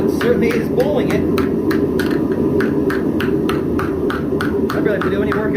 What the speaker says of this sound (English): Hammer's doing all the work.